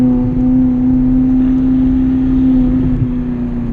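Ferrari California engine on a race track, a loud steady droning hum from the cabin with a strong sustained tone and slight rise under throttle, no talking.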